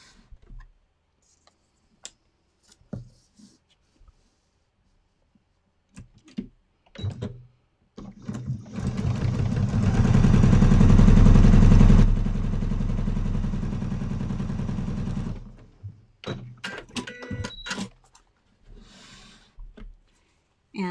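A sewing machine stitches a modern triangle quilt in one steady, loud run of several seconds, with scattered clicks and handling noises before and after.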